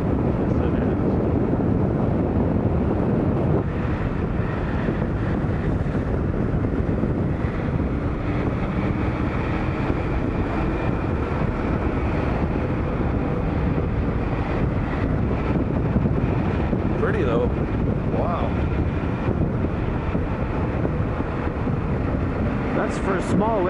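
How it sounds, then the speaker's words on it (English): Strong, steady wind gusting across a small, rough lake, a continuous broadband roar with rumbling buffeting throughout, close and loud, with no break. "That wind's really picked up, eh?"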